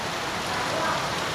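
Heavy rain pours down in Guhagar, a steady, dense wash of hiss that holds evenly through the moment with no pauses.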